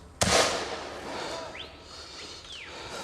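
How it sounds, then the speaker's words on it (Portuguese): A single sharp gunshot cracks and echoes at an illegal gold mining site in the Amazon near Itaituba, followed by a faint whistling tone in the otherwise quiet open air. "Troca de tiros, porque alguns garimpeiros conseguiram fugir."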